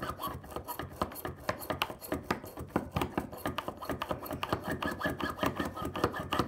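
An oboe reed is scraped on a Heng reed profiler, the blade rasping back and forth in quick, even strokes, close and steady with no talking.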